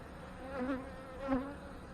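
Honey bees around an opened hive during a colony check, a faint, close buzzing hum that swells twice as individual bees pass nearby, with no talk.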